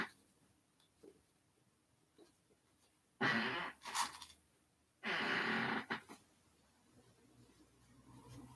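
Excess fabric is trimmed with scissors during sewing, two short, close swishing cuts a couple of seconds apart amid an otherwise quiet room.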